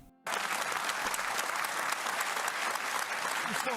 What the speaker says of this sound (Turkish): Neyse bu da alkış aldı arkadaşlar